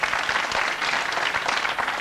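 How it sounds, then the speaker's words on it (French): A television studio audience applauds a well-poached egg on a French cooking segment, a steady dense wash of many hands clapping at once, fairly loud and continuous, with no voices over it. "Vous pouvez applaudir parce que l'œuf est bien poché."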